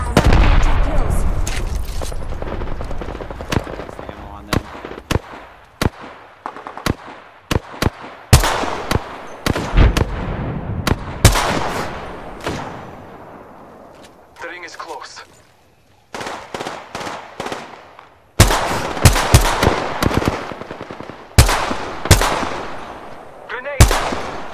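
Gunfire from the video game Apex Legends: loud, repeated bursts of rapid shots and single cracks, separated by short pauses, keep going throughout, with game sound under the firing.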